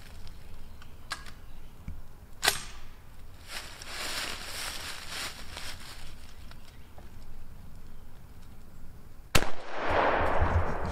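A shotgun with a full choke fires at a cardboard target 40 yards downrange during North Carolina waterfowl hunting; sharp, loud cracks cut through steady outdoor background noise.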